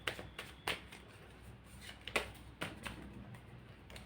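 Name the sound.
shuffling tarot cards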